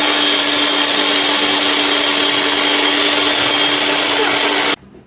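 A grinder mills a small batch of sun-dried ragi (finger millet) into flour, a loud steady whir with a constant motor hum that runs for nearly five seconds, then cuts off abruptly.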